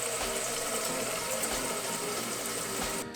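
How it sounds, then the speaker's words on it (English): Water pours steadily into a Wintersmiths clear ice mold, a loud, continuous close-up gush and splash that runs unbroken before cutting off abruptly at the end. "So you fill this full of water."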